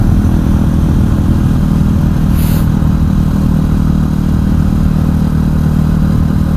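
A KTM 500 EXC supermoto motorcycle engine drones loudly and steadily up close at a constant pace throughout, with a brief hiss midway.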